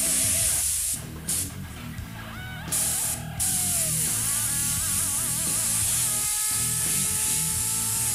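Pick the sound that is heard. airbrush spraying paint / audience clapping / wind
airbrush spraying paint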